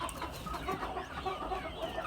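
Three-month-old chickens, young roosters and hens, cluck softly and steadily in a small group, with repeated short calls at moderate distance and no talking.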